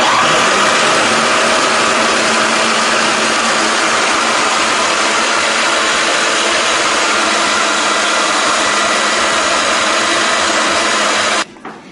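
An electric blender runs steadily while mixing ingredients for a recipe, a loud, close, continuous motor whir that holds for about eleven seconds and then cuts off abruptly.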